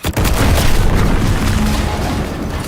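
A loud, deep explosion boom hits suddenly and fills everything with a dense, sustained roar that slowly settles; no voices are heard.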